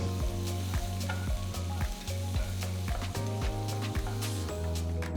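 Onions, green chillies and curry leaves sauté in oil with a strong, continuous frying sizzle close up. A spatula stirs and scrapes the pan in repeated rhythmic strokes, and the clip holds no talk.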